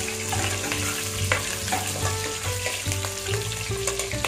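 About 200 grams of whole peeled shallots fry in hot oil for crab kuzhambu, a steady loud sizzle with scraping stirring strokes close up and no talking.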